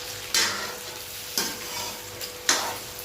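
Food fries in a pan before the masala goes in, a steady low sizzle broken by three sharp scraping bursts of stirring, spaced about a second apart and close up.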